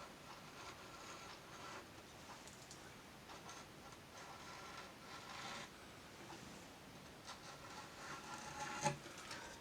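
Fine scratching of cut-line marks into fresh fresco plaster, a soft dry scraping that runs steadily throughout with small bursts of grainier strokes, close and quiet with no talking.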